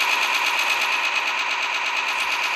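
A turret in a skeleton-invasion video game fires in a rapid, unbroken machine-gun stream that stays loud and even for the whole stretch.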